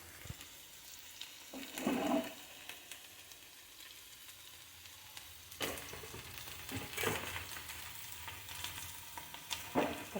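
Chopped onions and green chillies fry in a pan for a ladyfinger curry, a soft, close sizzle with a few louder bursts and stirring scrapes, no voices.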